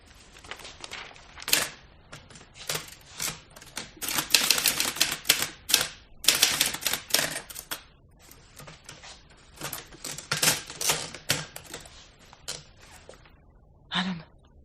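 A portable typewriter types out a letter in rapid irregular bursts of sharp key strikes, pausing briefly between runs, ending with a carriage bell or return near the close.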